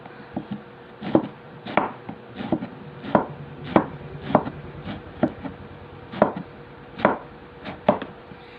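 Two pandesal rolls being sliced with a knife for a patola and misua soup, giving a steady series of crisp, close cuts at about one stroke per second, with no voices.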